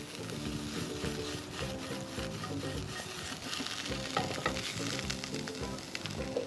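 Mushrooms stir-fried for shoyu ramen, sizzling steadily in a hot pan with repeated scraping and tossing clatters, close and continuous with no talk.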